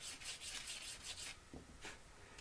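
An emery board files a quill smooth in a steady back-and-forth rasping rub, close and fairly loud, with several quick strokes and then a couple of separate passes. No one speaks.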